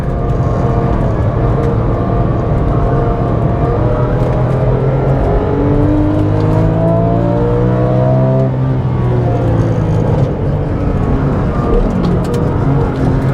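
Porsche 911 GT3 engine pulling hard on a race circuit, a loud, close, in-car howl that climbs steadily in pitch through the gear and then settles, with no talking over it.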